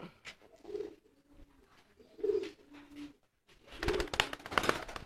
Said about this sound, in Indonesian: Jadi kalau di sini mungkin banyak merpati